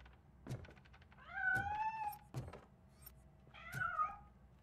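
A cat in RoboCop: Rogue City video game gives several drawn-out meows between dull thumps, fairly clear and close over a quiet low background.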